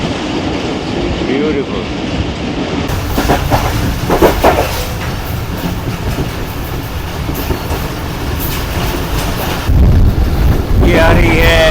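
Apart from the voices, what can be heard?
Zikria Express passenger train running on curved track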